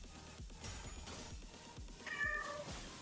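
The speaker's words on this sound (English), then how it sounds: "Oh, there's a kitty. I hear him." A cat meows repeatedly, several drawn-out mews in a row, fairly close over a steady background of game sound.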